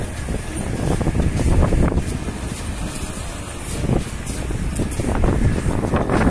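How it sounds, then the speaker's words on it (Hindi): Strong wind buffets the microphone at the outdoor entrance of an amusement park, a loud, continuous rumbling roar that surges and eases in gusts throughout. "हवा चल रही है भाई"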